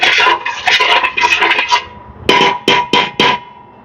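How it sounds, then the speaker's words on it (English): A spoon scrapes and clanks against a metal pot while cumin, mustard seeds, curry leaves and cinnamon sticks are stirred, making loud, close, rattling strokes in an uneven run and then four sharp knocks near the end. "Now I'm going to chuck in all my cumin seeds, mustard seeds, curry leaves and cinnamon sticks straight into the pot."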